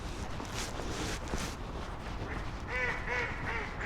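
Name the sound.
duck quacking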